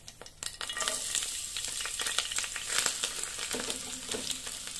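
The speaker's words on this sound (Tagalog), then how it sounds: "Magigisa na ako ng sibuyas bawang para sa bagong alamang" Onion and garlic sautéing in a pan for shrimp paste, a soft steady sizzle that rises after a quiet start, with crackles and the occasional scrape of stirring, close by and without talk.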